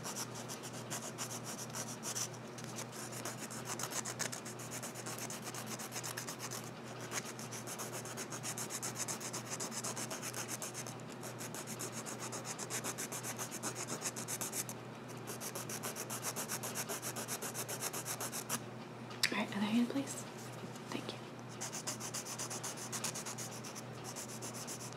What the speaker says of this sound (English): So we're gonna do the coarse grip to shape your nail.